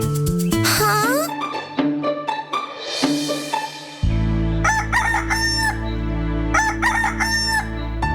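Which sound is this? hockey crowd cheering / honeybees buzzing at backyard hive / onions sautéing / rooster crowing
rooster crowing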